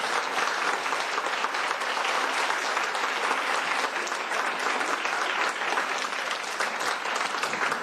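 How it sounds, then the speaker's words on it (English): A standing audience applauds a rabbi in sustained, evenly dense clapping that fills the whole stretch without pause, loud and close, with no talking over it. "give a big applause for Rabbi Wallerstein"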